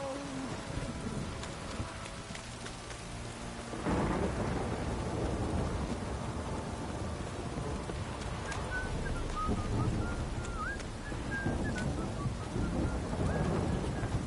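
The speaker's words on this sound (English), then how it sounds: "This downpour's a bastard, it is." Heavy rain and rolling thunder in a PS4 video game; a dense, steady downpour with deep rumbles that swells louder partway through, with faint higher tones drifting over it and no clear speech.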